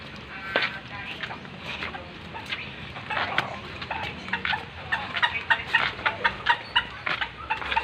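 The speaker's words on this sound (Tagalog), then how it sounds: "manok. Yung mga manok." Chickens cluck in a rural yard, with a series of short, sharp clucks that grow more frequent toward the end over outdoor background noise.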